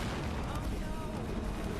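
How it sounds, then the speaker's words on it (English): A loud explosion erupts in the action video game Uncharted: Drake's Fortune, a dense, rumbling burst with crackling debris that fills the whole moment without letup. "Explosion right over my feet."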